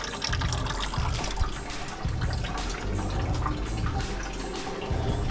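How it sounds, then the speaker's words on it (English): Coolant drains from a desert prerunner truck in a continuous close splashing trickle of liquid that runs steadily throughout, with no talking. "So draining the coolant now."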